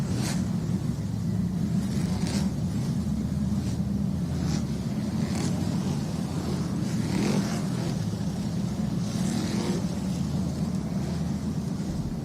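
NASCAR Whelen Modified Tour race cars circle the short track at Riverhead, a loud continuous engine roar with waves of passing cars rising and fading, heard from trackside without talking.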